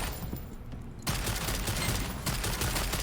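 Artillerist weapon fire in the video game Lost Ark, a dense continuous barrage of rapid shots and blasts with a brief drop in intensity near the start, loud and sustained throughout.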